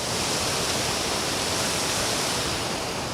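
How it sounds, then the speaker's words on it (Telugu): Water rushing over the Pocharam Dam spillway, a loud, dense, continuous roar of fast-flowing water filling the whole stretch with no voices. "మస్తు స్పీడ్గా వస్తున్నాయి నీళ్ళు"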